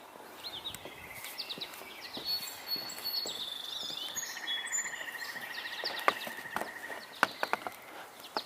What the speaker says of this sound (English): So we're hearing mostly American goldfinches